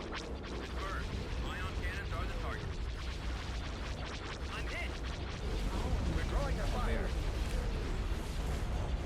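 Ion cannon fire in a Star Wars space battle video game, aimed at an MC90 cruiser, comes as dense, continuous crackling and booming blasts that build louder in the second half, with a voice talking over the battle.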